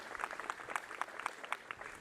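Sparse, faint applause from an audience at a ribbon-cutting ceremony for Kirksey Old Main's 115th birthday, distinct claps pattering unevenly and sounding distant.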